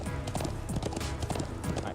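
Horse hooves clip-clop in a steady, continuous rhythm in the video game Trails of Cold Steel II, moderately loud and mixed with game music and a voice talking over it.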